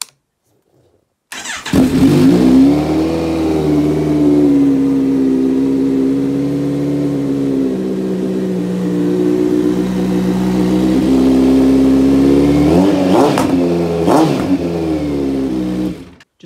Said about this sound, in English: I suppose they're gonna know I'm coming anyway. From this exhaust.